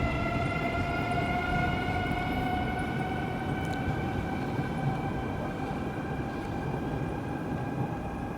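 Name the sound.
train departing the station in China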